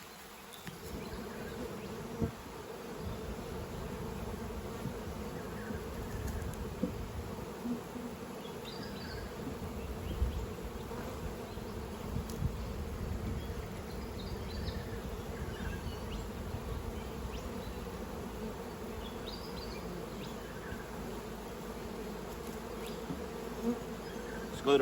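Honeybees hum steadily around an opened brood box during spring hive management, a dense, continuous buzz of many insects close by with occasional louder fly-bys and light handling knocks.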